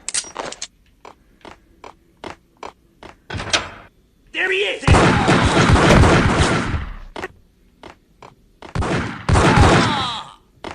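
Gunfire in the PC shooter Max Payne: scattered single shots crack in a sparse rhythm, then a long sustained burst of automatic fire, then further short bursts, all loud and close.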